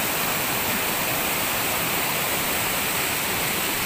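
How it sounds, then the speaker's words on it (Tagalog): A flooded waterfall in the Philippines pours steadily, a dense, continuous roar of falling water heard close and loud with no talking. "nakikita natin yung pagbagsak mismo ng tubig"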